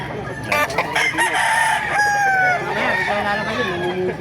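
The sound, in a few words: rooster crowing and chickens clucking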